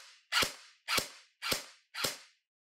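Airsoft gun firing in semi-automatic mode: four separate sharp, loud pops spaced about half a second apart, each with a short hissing tail, close by with no talking.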